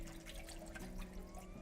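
An acrylic paintbrush is swished and rinsed in a water container, giving a soft continuous trickling and sloshing close by over a low background hum, with no talking.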